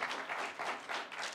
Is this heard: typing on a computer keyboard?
no